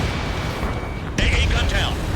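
A destroyed anti-aircraft gun explodes in the jet combat game Ace Combat 7, a sudden loud blast breaking in halfway through over a steady low rumble, followed by clipped radio-style voice chatter.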